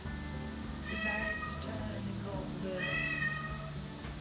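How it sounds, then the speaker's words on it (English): A cat meows twice nearby in a kitchen, two clear drawn-out calls about two seconds apart, over low background hum and faint talk. "Meow cat."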